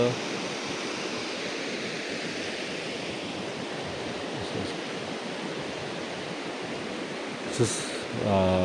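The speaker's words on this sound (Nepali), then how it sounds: "खोला पनि सुसाउँदै बगिरहेको छ" A river rushing past a village below a suspension bridge, a loud continuous roar of flowing water filling the scene, with a brief clatter near the end.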